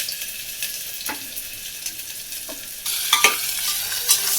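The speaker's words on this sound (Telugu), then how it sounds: "సో ఆనియన్స్ అయితే ఫస్ట్ వేస్తున్నారు." Onions sizzling and frying in hot oil for a home-cooked mutton curry, with scraping stir strokes from a spoon in the pan, the sizzle jumping louder partway through as stirring picks up.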